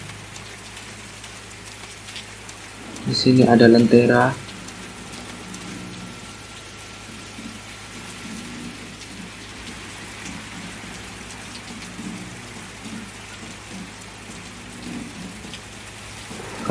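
Steady rain falls throughout a scene of the horror video game DreadOut, a constant wash of downpour with a brief louder burst of voice near the start.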